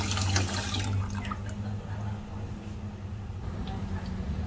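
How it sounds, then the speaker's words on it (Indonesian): Water pouring into a cooking pot for porridge, a steady close splashing gush that eases slightly as it goes on, with no talk over it. "kasih air ya."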